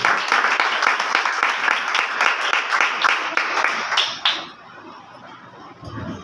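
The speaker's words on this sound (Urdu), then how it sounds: "زوردار تالیاں خدا کے کلام کو ویلکم کریں" A congregation at a Sunday church meeting applauds loudly with rapid, dense clapping that fades out after about four seconds, followed by near quiet and a faint sound at the end.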